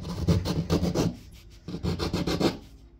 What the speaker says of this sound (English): Just shut up, fall in line, and rasp some wood.